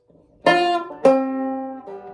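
Two plucked guitar notes ring out close and clear, the second sustaining before a softer third note enters.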